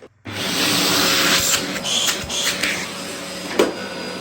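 A Dyson DC04 upright vacuum cleaner runs on a floor, giving a loud steady motor whine and airy rush close by, with slight changes in tone as it moves and a brief knock near the end.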